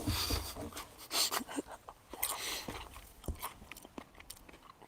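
Crisps crunched and chewed close to the microphone, a run of loud crackly bites followed by softer, irregular chewing crunches, with no talking over them.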